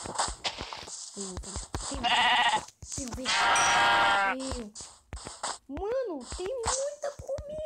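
Sheep bleating in Minecraft, several drawn-out wavering bleats near and loud, alternating with someone talking.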